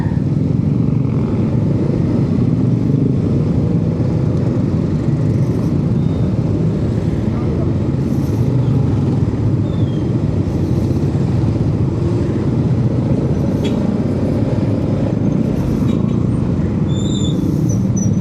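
Steady engine roar and rumble from heavy stop-and-go traffic at Macalindungan market, Indonesia, heard from a Yamaha Xmax scooter in the jam, with cars and motorcycles droning continuously and close throughout.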